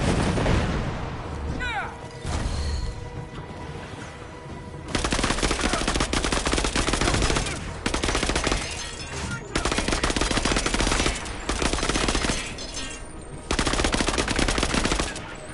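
Heavy video game gunfire in Marvel's Avengers, with rapid machine-gun bursts and booming shots, loud and close, coming in repeated long volleys separated by short gaps.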